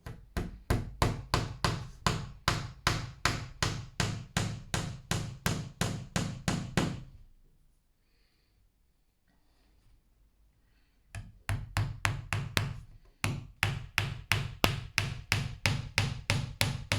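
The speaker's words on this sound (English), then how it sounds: "putting your finger down the hammer helps you control it." A hammer taps a steel punch in steady, rapid strikes while glazing a reclaimed door, a long run of close, crisp knocks, a pause of near silence, then another even burst of tapping.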